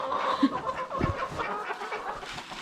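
Chickens clucking inside their coop on a snowy day, a few short soft clucks and murmurs close by, with no talk.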